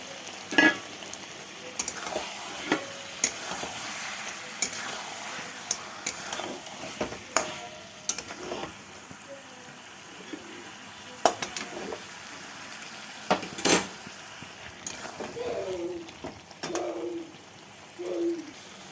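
Pre-fried potatoes are stirred into sautéed chicken in a pan for chicken kosha: intermittent spoon scrapes and knocks over a soft, low sizzle, with faint bird calls in the background.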